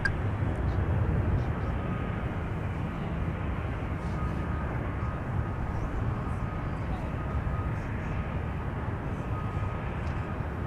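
A Boeing 767 airliner arriving at Minneapolis–Saint Paul airport, a steady broadband jet roar rumbling low and loud for the whole stretch, with faint radio chatter mixed underneath.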